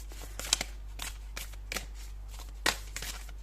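Tarot cards shuffled by hand in quick, crisp riffling bursts, about half a dozen brushing flutters in a few seconds, close and fairly quiet, with no talk.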